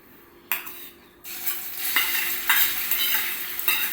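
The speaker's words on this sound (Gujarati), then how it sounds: "તેલ ગરમ થાય એટલે આ જે મરચાં અને લસણ જે આપણે ગેસ ઉપર શેકેલા હતા તે અંદર નાખી દઈશું" Roasted chillies and garlic frying in a few spoonfuls of hot oil, with a steady close sizzle and scattered clinks and stirs of a spoon against the pan.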